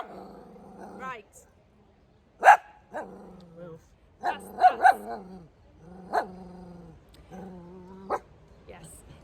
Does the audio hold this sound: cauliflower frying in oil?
no